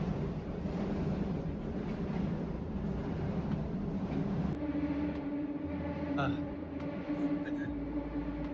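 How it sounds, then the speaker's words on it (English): A low rumbling of a passing train in Korea with a steady drone and intermittent clanks, heard outdoors near a park from a moderate distance as a voice talks over it. "You can hear that, that's the train."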